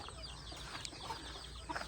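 Farm chickens, kept with ducks, cluck in faint, scattered calls against steady outdoor background noise, with a couple of slightly louder clucks near the end.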